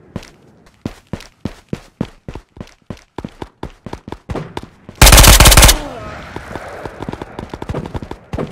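Gunfire in the video game Ghosts of Tabor rings out as a long string of sharp, evenly spaced shots, broken by a brief loud blast of noise before the rapid shots resume, close and loud.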